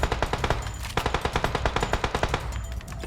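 Rapid automatic gunfire in PUBG Mobile on the Livik map, a steady string of sharp, loud shots fired close by in quick rhythmic bursts for about three seconds.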